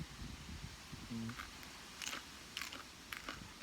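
Someone bites into a fresh Blauschokker pea pod picked from a garden, giving a few faint, crisp crunching snaps over quiet background noise.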